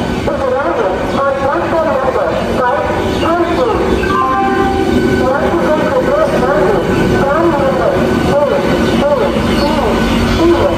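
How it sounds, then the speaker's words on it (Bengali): A passenger train slows to a halt at Asansol station platform, its rumbling wagons and squealing wheels carrying steadily through the whole stretch amid busy platform noise and people talking. "বন্ধুরা এই ট্রেন দাঁড়ালো।"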